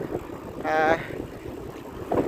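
Wind buffeting the microphone while cycling toward Kashmir near Udhampur, a rushing, gusting roar with a louder burst midway; someone speaks over it.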